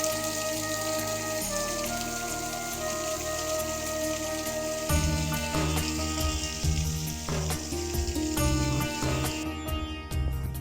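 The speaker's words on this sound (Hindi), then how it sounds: "जंगल में किस प्रकार पानी की धाराएं चल रही देख रहे हैं।" Streams of water rush through a dense forest as a steady, close hiss of flowing water, with music playing over it throughout.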